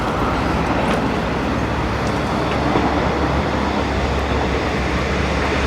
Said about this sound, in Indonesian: ini keretanya pas banget lewat nih